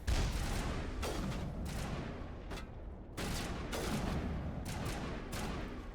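Repeated loud gunfire in the video game Mass Effect, heavy booming shots and short bursts at irregular intervals over a continuous roaring combat background.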